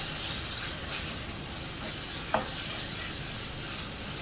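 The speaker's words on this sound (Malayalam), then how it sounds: "ഒന്ന് ഇളക്കി മിക്സ് ചെയ്യാം." Masala being stirred in a frying pan after a spoonful of tomato ketchup is added, a steady soft sizzle with a brief scrape of the spoon partway through, close and alone.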